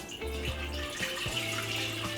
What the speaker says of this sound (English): So we're gonna add water